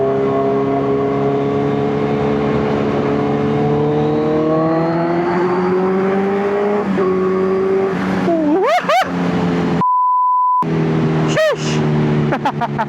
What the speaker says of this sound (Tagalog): masyadong malakas yung pipe